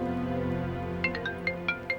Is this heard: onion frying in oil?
no